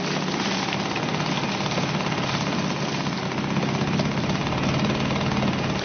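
Suzuki DT2 small outboard engine running steadily after a pull start, a loud continuous buzzing drone close by with no talk.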